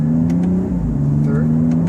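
A BMW 2 Series car accelerates through a gear change, a strong close engine drone rising and then dropping in pitch, with a person talking under it.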